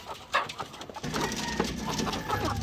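Hens in a backyard flock, one black hen among them, cackle and cluck ahead of laying, a busy overlapping chorus of clucking bird calls at moderate distance with no voices.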